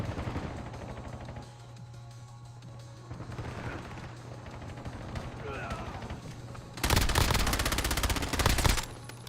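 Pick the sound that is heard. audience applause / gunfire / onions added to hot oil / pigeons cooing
gunfire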